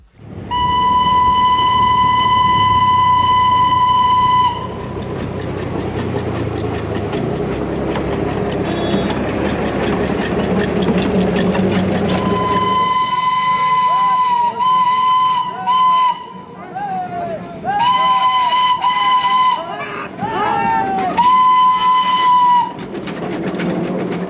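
A toy train engine on the hill railway near Siliguri, North Bengal, blows loud, repeated steady whistles, long then in short bursts, over a rumbling, clattering run heard close by.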